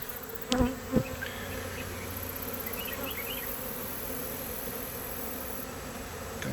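A swarm of honeybees buzzes around a hive in a steady dense hum with a few knocks and bumps near the start; nobody talks.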